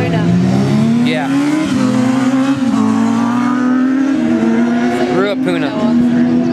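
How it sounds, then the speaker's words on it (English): Race cars roar around the Christchurch Speedway oval in New Zealand, a loud sustained engine drone rising and falling in pitch as cars pass, with brief tire squeals and people talking underneath. "We're waiting for Jesse to race here at the Christchurch Speedway."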